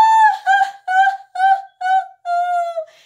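A single voice imitates a pained crying "ooh" after an ear piercing, a series of six sustained, wavering vocal wails with brief gaps, loud and close, tapering off at the end.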